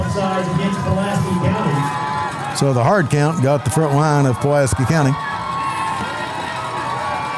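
A high school football playoff crowd at Atherton versus Pulaski cheers and shouts in a swelling burst beneath a play-by-play announcer talking over the stadium noise.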